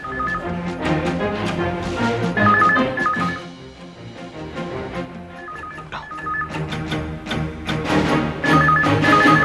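A telephone rings repeatedly with bright electronic tones in a steady pattern, pausing briefly before the trilling resumes and continues loud and close.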